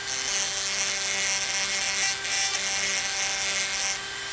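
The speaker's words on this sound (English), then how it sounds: "If you have a Dremel tool, just put the little burnishing tip in it" A Dremel rotary tool fitted with a small burnishing tip scrubs metal contacts on a K-Line model passenger car, giving a steady, close high-pitched whine with gritty rubbing that runs nearly unbroken for about four seconds.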